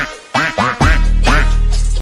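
Duck quacking as a sound effect: two short loud quacks followed by a longer drawn-out series of quacks, close and clear with no talking.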